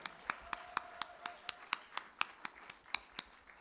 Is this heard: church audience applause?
yes